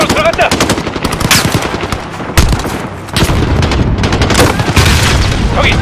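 A Call of Duty: Modern Warfare campaign battle at an embassy has loud, continuous automatic gunfire with rapid bursts. Sharp louder shots and booms punctuate it, and faint shouted voices are mixed in.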